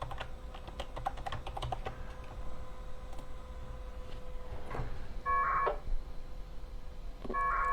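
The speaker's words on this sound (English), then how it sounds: "I had to type in my password manually" A password is typed on a computer keyboard: quick bursts of crisp key clicks, close and clear, with short pauses between clusters and a faint hum underneath.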